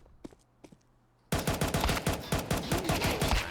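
Counter-Strike 2 gunfire in a professional esports match: a few sparse single shots, then a loud continuous automatic spray of rapid, evenly spaced rounds.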